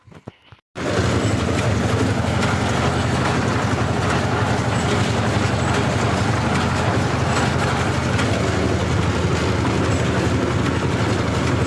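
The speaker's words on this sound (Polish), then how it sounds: "Także ja odpalam traktor i jadę na pole" A Władimirec T25 tractor engine starts after a few brief clicks and settles into a loud, steady, dense running drone with constant rumble, close by and uninterrupted, no talking over it, before heading out to bale straw in a field.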